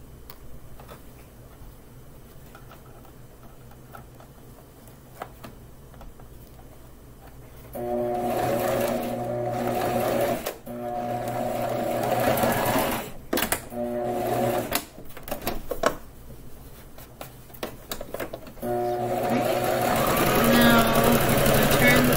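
A sewing machine stitches a fabric surgical mask, its motor whirring in loud bursts that start and stop in rhythm, with quiet ticking pauses between runs.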